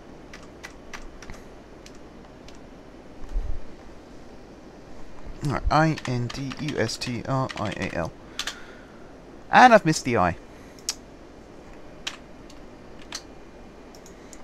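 Clicky computer keyboard typing during a Cities: Skylines session, with scattered ticks and short bursts of quick keystrokes that come through between and under a man's spelled-out speech, fairly close and light.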